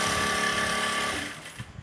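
A sewing machine runs continuously, stitching a blouse with a lining attached, in a dense, buzzing mechanical whir that stops partway through and leaves a few faint clicks and handling sounds. No one speaks.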